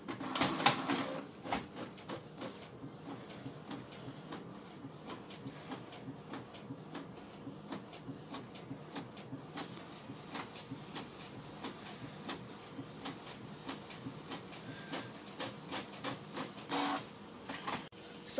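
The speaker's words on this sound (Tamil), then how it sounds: "இங்க இந்த பிரிண்டர் இருக்கா, இது பண்ணீங்கன்னா பிரிண்ட் ஆயிடும்." Home printer printing a page, a quiet run of rapid mechanical clicks, whirs and paper-feed clatter lasting several seconds, heard alone and close.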